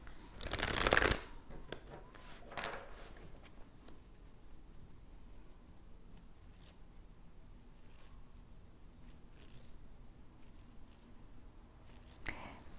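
Tarot cards shuffled in a quick, crisp riffle at the start, followed by quiet soft card handling and a faint slap of a card near the end, all close and without talk.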